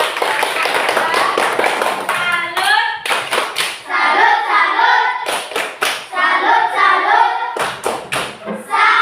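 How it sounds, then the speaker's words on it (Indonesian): A classroom of students claps for a presenting group, loud close hand claps in quick bursts and rhythmic sets broken by brief pauses, with children's voices calling out between and over the clapping. "Tepuk tangan dulu buat kelompok 2."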